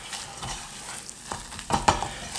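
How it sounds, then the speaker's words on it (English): Cumin and other spices frying in butter in a pan while being stirred, a close, continuous sizzle broken by a few sharper scraping clatters from the stirring near the end. "just by frying them in the butter or a little bit of oil"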